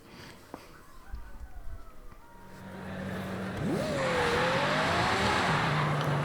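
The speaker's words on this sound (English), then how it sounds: "As you can tell, first gear really does spin those tires" A 2017 Ferrari GTC4Lusso with an AWD drift tune pulls away in first gear, its engine rising from a low idle into a loud rev with tire spin building and holding to the end.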